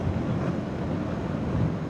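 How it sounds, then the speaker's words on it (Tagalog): Wind rushes and buffets against the microphone high on a mountain in Sorsogon, Philippines, in a low, continuous rumble, with no voices. "presko po yung hangin dito sa taas"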